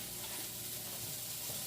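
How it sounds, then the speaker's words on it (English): Onions and red peppers frying in a home-kitchen pan, a steady close sizzle with soft crackle running continuously and at an even level, with no talking. "I'm gonna add the onions with the peppers that I already cut up"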